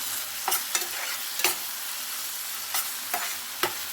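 Ginger garlic paste fries in hot oil for a prawn curry, a continuous close sizzle broken by sharp scraping stirs every half second or so, with no voices.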